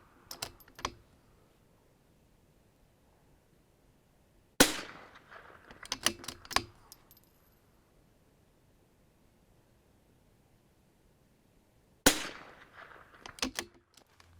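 Rifle shots fired with Lapua Super Long Range ammunition at an outdoor range, heard as loud sharp cracks in three spaced bursts, each a single report followed by a quick cluster of smaller impacts or clatter.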